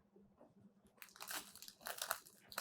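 Plastic wrap crumpled and crinkled around a block of floral foam while assembling a flower box, a quiet start followed by close, bright crackling bursts that swell and fade irregularly, with no talking.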